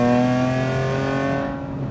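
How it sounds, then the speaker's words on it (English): Strong, smooth engine tone from a BMW E30 with a swapped Euro S50 straight-six, heard close. It holds a steady, high-revving pitch, then fades a little near the end, with no talking. "It loves to be revved out."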